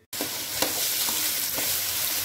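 Tempering spices dropped into hot oil for a ridge gourd fry burst into a loud, dense sizzle that starts abruptly and holds steady, with a few faint pops, close up and without talking.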